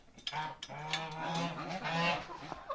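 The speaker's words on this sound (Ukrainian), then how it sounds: "Що мої гуси? Гевгуси." Geese on a small farm honk close by in a short burst of loud, nasal calls, several overlapping cries with no other sound.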